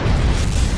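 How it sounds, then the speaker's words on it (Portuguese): A supernova explosion sound effect from a documentary about nebulae: a dense, continuous roaring rumble, loud and sustained throughout with no voices. "mas talvez a explosão de uma supernova."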